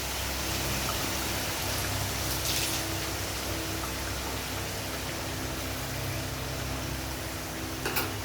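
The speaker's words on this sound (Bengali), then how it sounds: "এবার একটুখানি জল অ্যাড করে দেব" Water splashing into a pan of frying chital fish masala gives a steady, close broadband hiss like rain that holds evenly for the whole stretch with no talking.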